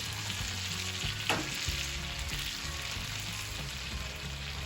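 Minced garlic sizzles steadily in a hot pan for a steak dinner, a dense continuous crackle with a brief sharper spatter partway through and soft low clinks beneath, no voices.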